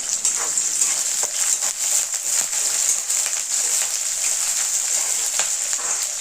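Garlic, onion and curry leaves frying in hot oil for a broad bean curry make a dense, continuous crackling sizzle, loud and close, with no talk over it.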